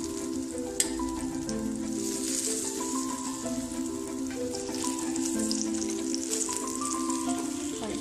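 Eggplant slices fry in hot oil in a pan for Afghani burani banjan, giving a loud, continuous sizzle with crackling bubbles, close up, with a steady tonal hum beneath and a single sharp tap near the start.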